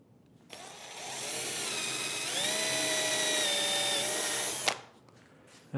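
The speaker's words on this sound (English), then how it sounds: "Drill the hole. I'm just drilling a 3/16 hole." A power drill bores a 3/16-inch hole in wood, running steadily for about four seconds, its whine rising in pitch midway, then stops abruptly; close and fairly loud, no talking.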